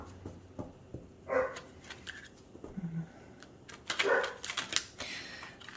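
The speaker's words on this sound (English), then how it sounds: "I gotta see why my dog is barking." A few scattered dog barks at a distance, spaced out irregularly, with faint clicking and tapping sounds in between.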